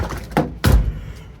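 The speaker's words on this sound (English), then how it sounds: "but these door handles do work." The door handle of a cheap four-wheel-drive Subaru built for off-road rallying clicks, then the door unlatches with a solid thunk, two close, short knocks in quick succession.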